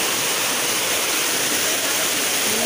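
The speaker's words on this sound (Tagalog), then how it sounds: "Ba't ang lakas ng tubig?" Strong rushing floodwater roars loud and steady, a dense broadband wash with no pauses, alone without voices.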